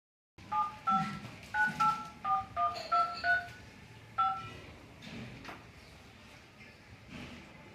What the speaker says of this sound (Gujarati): હું એને ફોન કરીને બોલાવી લઉં